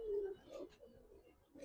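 A Benarasi Kaldam pigeon, an original-breed bird, gives a brief low coo close by, soft and short against a quiet background.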